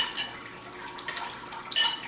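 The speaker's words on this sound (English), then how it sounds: "I know that water running sound is probably driving a few people a little crazy" Tap water runs while water bottles are filled, a thin steady hiss of flow punctuated by small clinks of bottles and containers, ending in a brighter splash close by.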